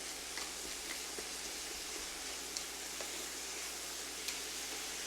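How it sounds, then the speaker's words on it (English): Frozen corn sizzling in melted butter and honey in a cast iron skillet, a soft steady crackle and hiss with faint scattered pops, fairly quiet and close, with no talking. "Once that butter and honey is all melted together, we're going to add the frozen corn"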